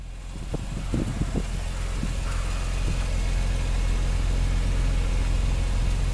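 A 2007 BMW Z4 M Roadster with standard dual exhaust and quad aluminum tips fires up with a few sharp bursts, then settles into a steady, loud, close idle with no talking.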